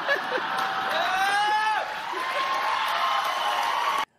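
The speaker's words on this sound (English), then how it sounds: "a couple people bail her out and start clapping" An audience breaks into clapping and cheering, a broad wash of crowd noise with whoops and scattered hands, fairly loud and steady before cutting off abruptly.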